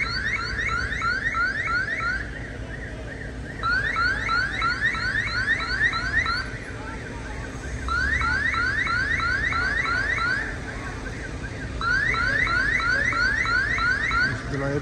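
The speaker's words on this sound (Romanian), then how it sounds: "Au pornit alarmele de la farmacie, de la banca românească" Building alarms at a pharmacy and a Romanian bank blare in repeating warbling electronic bursts that cycle on and off, loud and continuous on a street after explosions and a fire, with faint background noise between cycles.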